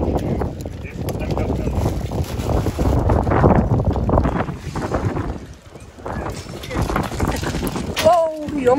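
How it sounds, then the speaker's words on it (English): Gusty wind roars across the microphone at an outdoor antique flea market, rising and falling in strong blasts throughout, with voices faintly mixed in near the end. "It is windy. Blowing."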